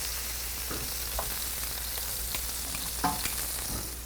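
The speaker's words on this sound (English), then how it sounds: "Give them a little stir here." Grass-fed steak browning in a pan, a steady close sizzle of frying with occasional scraping clicks of stirring on top, no voices.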